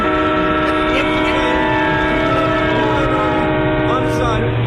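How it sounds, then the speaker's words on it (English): A train passing at a station: a loud, sustained horn blares over heavy rolling rail rumble throughout. "I'm at the train station."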